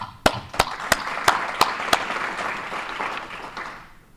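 A short burst of applause opens with several sharp, evenly spaced claps, then settles into a softer spread of clapping that fades out.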